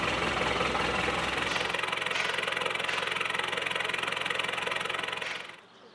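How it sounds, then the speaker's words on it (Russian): A truck engine started with a push-button, running at a steady rough idle with a regular knocking throb, close and even for several seconds before cutting off abruptly at the end. "И кнопочка старт заводит двигатель."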